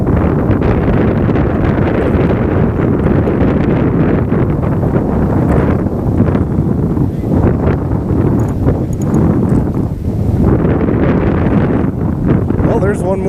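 Steady wind roars across the microphone on a fishing boat out on the water, a loud continuous rumble with gusty swells under occasional talk.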